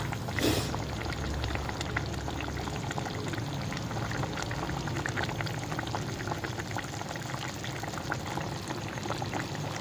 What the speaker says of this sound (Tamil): அடுப்பு மீடியம் நல்லா கொதிக்குது பார்த்திங்களா?